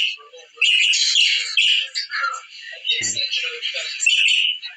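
Several pet birds chirp and squawk indoors in a dense, continuous chatter of high calls lasting nearly the whole stretch, with one brief lower sound partway through.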